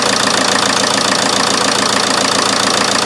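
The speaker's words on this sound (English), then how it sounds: "The engine has started easily, and now I'm going to leave the engine idling" A Ford Transit Connect's 1.8L Duratorq TDCi diesel idles inside a garage, loud and close, with a steady rapid clatter and uniform even knock running throughout.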